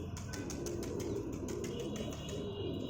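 A pigeon flaps its wings in a series of quick, dry bursts close by, with soft cooing and other birds in the background.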